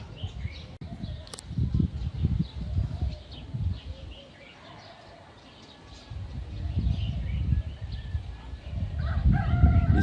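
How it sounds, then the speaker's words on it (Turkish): Several roosters crowing in bursts in a village in Hatay, Turkey, some near and some farther off, over a quiet morning outdoor background with a pause in the middle. "Horozlar ötüyor."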